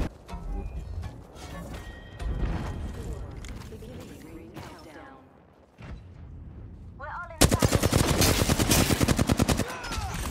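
Gunfire from an Apex Legends match: scattered shots under a talking voice, then a dense, loud burst of rapid automatic fire near the end.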